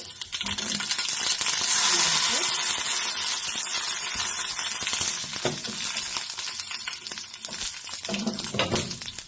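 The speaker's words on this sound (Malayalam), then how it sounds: "ഇനി അത് നമുക്ക് കുറച്ച് കടുക് പൊട്ടിച്ചെടുക്കാം" Mustard seeds crackle and splutter in hot coconut oil in a pan, a dense continuous sizzle with brief pops and occasional clinks of a utensil, close and fairly loud throughout.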